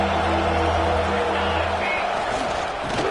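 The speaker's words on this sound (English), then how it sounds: "Listen to the crowd energy here in the early going." Stadium crowd at a UNC college football game, a broad steady roar that fills the whole stretch with constant loud background noise and faint tonal sounds mixed in.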